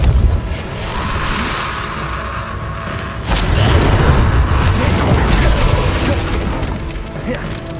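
Spell blasts and explosions in the Hogwarts Legacy video game, a dense ongoing rumble of booms and crashes with a sharp burst partway through. A voice talks over it.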